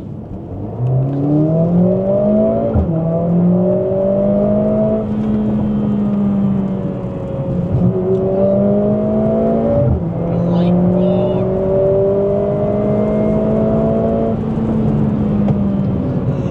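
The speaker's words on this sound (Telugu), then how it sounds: "ఇప్పుడు కంప్లీట్ నేను స్పోర్ట్స్ మోడ్లో ఉన్న, వాల్వ్స్ ఓపెన్ ఉన్నాయి. ఇప్పుడు సౌండ్ వినండి." A Mercedes-AMG A45 S 4MATIC+ in sport mode with exhaust valves open accelerates hard. The engine note climbs in pitch through several rising sweeps, with brief dips at each gear change, and stays loud and close throughout.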